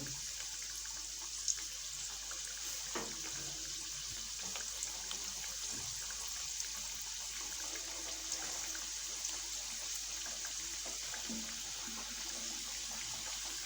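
Samosas frying in hot ghee, a steady fizzing, crackling sizzle with scattered small pops, moderately quiet and continuous throughout.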